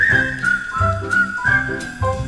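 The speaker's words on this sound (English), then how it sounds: "tune up and start to whistle while you work" A cheerful tune is whistled in a swinging jazz rendition, the bright melody running continuously over a full band accompaniment with a steady rhythmic beat.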